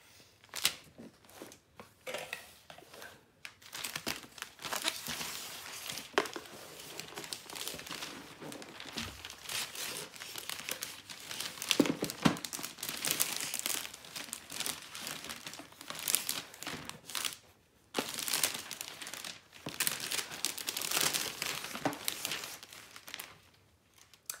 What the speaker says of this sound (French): je vais faire les papiers cadeaux